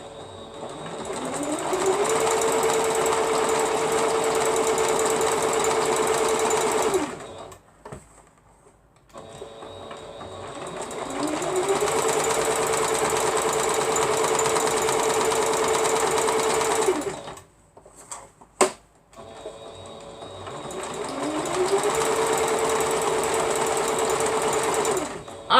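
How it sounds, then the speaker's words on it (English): Sewing machine stitching down a fabric applique piece, running in three long steady bursts of rapid, even whirring, each spinning up at the start and ending in short pauses, close and loud with no talking. "Alright, we're going to sew this one down."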